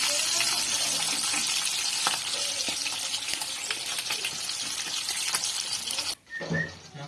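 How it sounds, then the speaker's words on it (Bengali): Katla fish frying in hot oil in a kadai, a steady dense crackle and sizzle running loud and close throughout, briefly cut off near the end before resuming. "এখানে ভালোভাবে উল্টো পাল্টা মাছগুলো আমার ভাজা হয়ে গেছে।"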